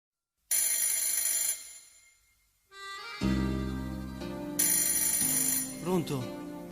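A telephone rings as part of an Italian neomelodic song from 1996 on a Naples radio broadcast, a bright repeating ring starting alone, pausing, then sounding again over the full music backing.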